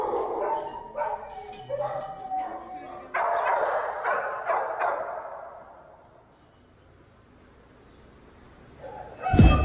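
Shelter dogs in kennels bark and yip in bursts, loud and fairly close, then fade to quiet before a final sharp bark, with a person talking over the barking.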